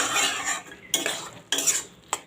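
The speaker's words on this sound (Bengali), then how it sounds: "এবার ভালো করে আমি মিশিয়ে দিচ্ছি।" Fried garlic and chilli are stirred into mashed red lentil dal in a metal pot, giving three wet, scraping bursts of spoon against pan with short pauses between them, close and fairly loud, with no talking.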